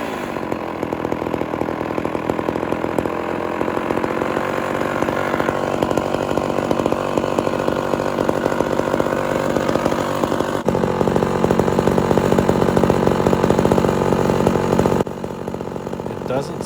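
A Homelite Super XL chainsaw with a rebuilt Tillotson carburetor and a bad cylinder and piston, running loud and close with a steady buzzing drone that rises in pitch as it revs, then drops back near the end.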